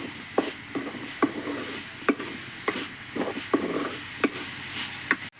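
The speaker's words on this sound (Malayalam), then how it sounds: "സോയാബീൻ കണ്ടോ ഇട്ട് കൊടുക്കാം" Soybeans stirred into a thick, sizzling gravy in a pan for a Kerala soybean roast, a soft bubbling fry broken by regular spoon scrapes and knocks against the pan.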